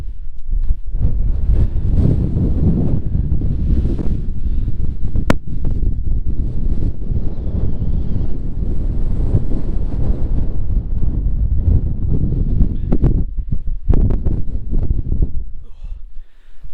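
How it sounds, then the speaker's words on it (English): Strong gusting wind roars across the microphone high on the Yorkshire Three Peaks, a loud, continuous buffeting rumble with brief sharp pops and no letup. "Yes, and it's very windy, so time to get back down."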